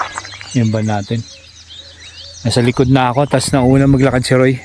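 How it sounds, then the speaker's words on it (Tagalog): Many birds chirp and sing in the early morning along a mountain hiking trail, their calls bright and steady in the background while a person speaks over them in bursts. "naririnig nyo sa background ko ang daming huni ng ibon,"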